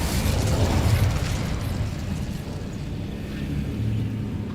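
A fire spell cast in Hogwarts Legacy gives a loud whooshing, bursting blast at the start that trails into a sustained crackling rumble, with a second softer flare near the end.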